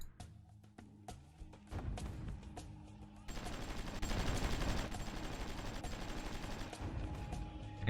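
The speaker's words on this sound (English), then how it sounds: "I can hear some firing." Gunfire in a strategy video game, scattered distant shots at first, then a continuous muffled rattle of machine-gun fire and thuds building and holding steady at moderate volume.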